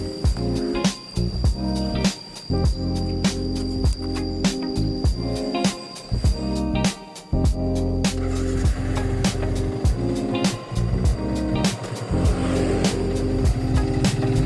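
A Yamaha Vixion motorcycle engine runs while riding, fitted with tracker-style handlebars, a loud steady hum that rises and falls with throttle changes and sharp clicks from gear shifts, close and continuous.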